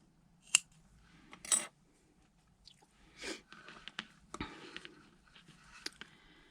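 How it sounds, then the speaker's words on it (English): Scissors snip gray yarn during a crochet project, producing a few short, sharp, isolated cuts in a quiet room with small handling rustles in between. "I'll go ahead and cut this gray one."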